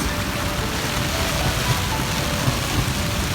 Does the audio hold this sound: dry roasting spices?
no